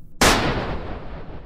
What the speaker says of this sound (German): Der Schuss peitschte durch die Höhle, ein einzelner, schmerzhaft klarer Knall.